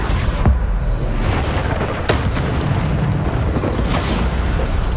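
Bombarda spell explosions in the video game Hogwarts Legacy land as repeated heavy booms and thuds over a dense, rumbling battle din, with no voices heard.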